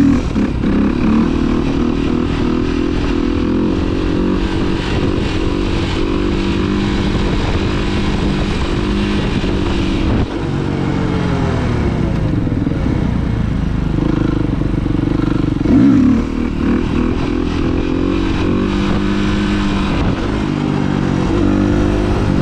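Motorcycles riding at a relaxed pace, a steady, loud engine drone with shifting pitch as the riders change speed, continuous for over twenty seconds with wind rushing past.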